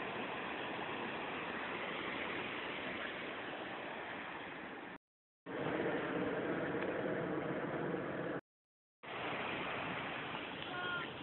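Ocean waves break and wash along a big-surf beach near Newport Pier, a continuous broad roar of surf that runs steadily and fairly loud, cut by two short gaps.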